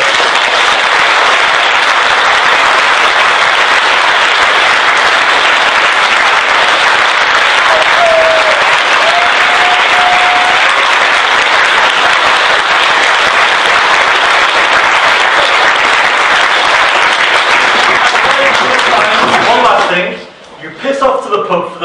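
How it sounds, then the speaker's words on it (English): Loud, sustained applause from the audience at a closing address, steady for about twenty seconds before it breaks off and a voice starts talking. "Give yourself a big round of applause and all those people a big round of applause"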